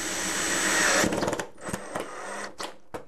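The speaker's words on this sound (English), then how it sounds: "And you'll take your drill," A cordless power drill whirs steadily while driving screws into a gutter end cap, then cuts off into several short stop-start bursts of the motor.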